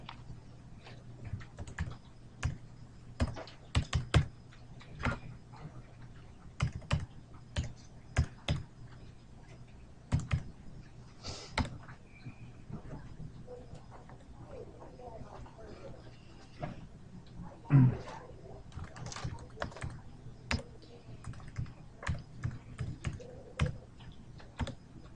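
Someone types on a computer keyboard while entering values into orbit-simulation software. Close, crisp key clicks come in irregular bursts with short pauses over about twenty-five seconds, with one louder thump near the end.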